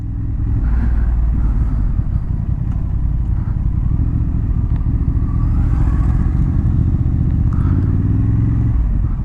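A 2023 Honda CB750 Hornet motorcycle rumbles loudly and continuously on a test ride, with its steady engine drone close and up front, mixed with road and wind noise.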